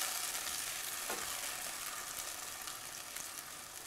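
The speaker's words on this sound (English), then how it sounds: "So I've got the tomatoes in here. I am going to stir it" Tomatoes for marinara sauce seasoned with an Italian herb blend are stirred in a pot over the heat. A soft, continuous hiss of cooking carries under one faint stir, and the whole clip is quiet.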